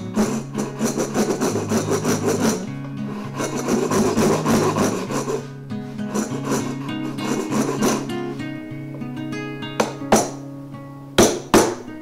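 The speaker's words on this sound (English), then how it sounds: "I'll just cut down to that line I scored on either side." A saw cuts down to a scored line while building a mobile tool base, giving steady, ringing rasping strokes up close, then a few sharp knocks near the end, with no talk.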